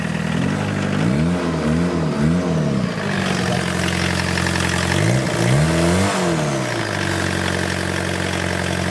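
A homemade buggy fitted with a VW Golf 1.6 engine idles loudly, then revs up in several swelling bursts that rise and fall before settling back to a steady idle, close and continuous throughout.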